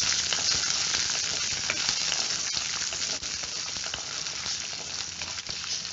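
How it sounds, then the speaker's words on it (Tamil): Garlic and a small piece of tamarind sauté in a pan for mint chutney, giving a dense, steady, close sizzle with faint stirring crackles and no talk. "இதை 1 நிமிஷம் நல்லா வதக்கிக்கலாம்."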